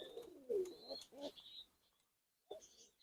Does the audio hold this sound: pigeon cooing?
yes